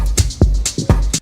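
Drum groove with untreated transients: kick hits with full sustain plus snare and cymbal strikes, loud and alone, a short pattern of about five hits with natural ring between them.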